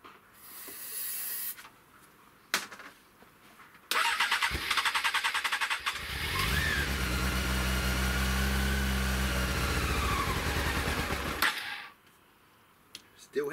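A Honda CBR 600 motorcycle engine cranks and fires, then revs and runs loudly for several seconds at a steady buzzing pitch before shutting off, with brief clicks and handling noises around it.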